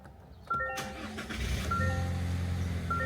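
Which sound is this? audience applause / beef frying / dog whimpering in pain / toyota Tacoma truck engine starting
toyota Tacoma truck engine starting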